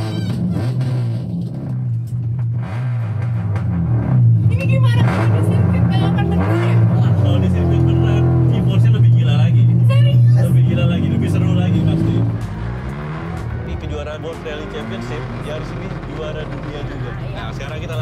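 A car drives on a racing circuit, its engine a steady close drone that builds and then drops away near the end, with people talking over it.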